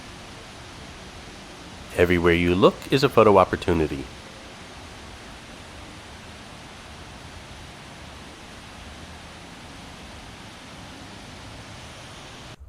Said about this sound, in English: right next to the Wynn fountain is a beautiful Wynn waterfall